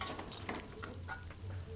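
Fried anchovies and peanuts are tossed and stirred in a pan, giving a steady, soft sizzle with faint scraping and rattling, quiet and continuous.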